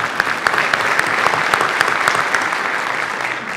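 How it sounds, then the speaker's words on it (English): Audience applause fills a civic hall during a State of the City address, steady sustained clapping with dense sharp hand claps, loud and continuous without talk. "Can we give them a hand?"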